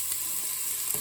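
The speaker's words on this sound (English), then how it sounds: "as soon as the vegetables hit the bottom of the pot there, you could hear that sizzling noise." Vegetables sizzle in hot oil at the bottom of a pot, a short, steady hiss of frying with no voices.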